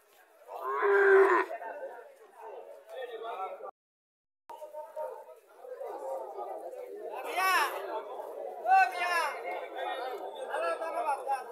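Sahiwal calves and cows at a busy cattle market, with several loud, drawn-out moos rising over steady crowd chatter and nearby talking.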